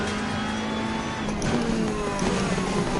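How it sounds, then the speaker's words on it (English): A Mercedes race car engine in Assetto Corsa Competizione drones steadily at Kyalami, its pitch dipping and shifting as the car slows into braking, with a faint tire squeal in the background. "Every time I start to brake, you can hear it."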